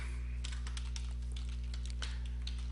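Quick bursts of keyboard typing, a run of light clicking keystrokes over a low steady hum, close and fairly quiet, with no voices.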